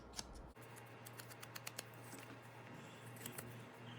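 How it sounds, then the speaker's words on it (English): Paper edges are distressed for a sunflower journal with a series of quick, close scraping and snipping strokes. They come in an irregular rhythm over a low steady hum, with no talking. "So we'll just do a quick distressing"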